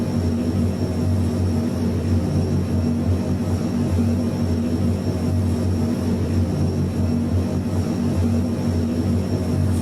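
Airbus A400M military transport taxiing in Microsoft Flight Simulator 2020, a steady loud propeller-engine drone with strong low hum held evenly throughout, no voices.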